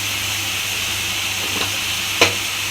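Tomatoes sautéing with salt in a pan sizzle in a constant close hiss, broken by a couple of brief scraping stirs, one sharper than the other near the end.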